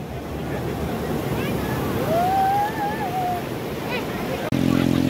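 Tall waves roll onto a clean Odisha beach near Konark, a broad, steady rushing surf under wind noise. Faint distant voices are mixed in, and a short low hum rises near the end.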